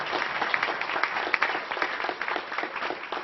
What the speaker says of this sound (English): would they stand and be thanked with an applause?